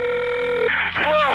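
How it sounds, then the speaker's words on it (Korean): A telephone rings as a 911 operator calls back, one steady electronic ring tone lasting under a second before a voice starts speaking over a faint hum. "911 교환원은 다시 마크에게 전화를 걸었습니다"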